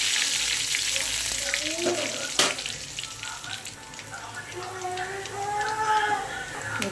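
Garlic spitting and sizzling in hot oil alongside cumin and mustard seeds, a steady close crackle with a sharp clatter around the two-second mark and faint background voices.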